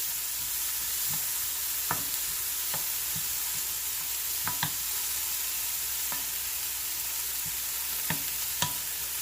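Onions and garlic cook over medium heat in a pan, with a steady even sizzle and a few light spoon taps and scrapes spaced through it.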